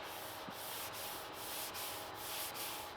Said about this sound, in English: that's what I'm doing, is sanding all these out